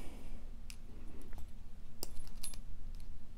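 Nippers snip jewelry wire while a DIY necklace is assembled, with a few faint, close metallic clicks and light jingling over a quiet room.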